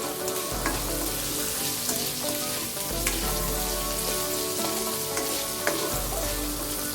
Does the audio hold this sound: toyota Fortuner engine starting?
no